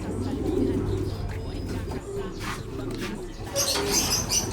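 Racing pigeons coo and scuffle as two birds fight in a loft, with short throaty calls and rustling bursts near the microphone, ending in a louder flurry of activity.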